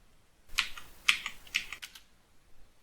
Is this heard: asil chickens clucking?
no